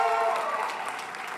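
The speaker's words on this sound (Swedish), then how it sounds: "Hon ska ha en enorm applåd!" An audience at a festival finale applauds the festival's general, heard as a brief, dense wash of clapping that fades slightly toward the end.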